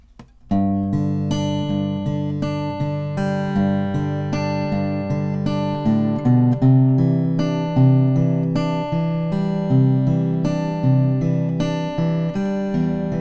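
Guitar plays the full verse of a song, a steady picked pattern of ringing notes over changing chords, close and alone at an even level with no voices.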